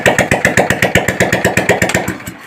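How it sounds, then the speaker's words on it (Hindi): A Hero Glamour motorcycle engine fires after a kick start and runs with a fast, even thumping beat close by, loud and steady over the short stretch. "अब किक से स्टार्ट भी हो जाएगी"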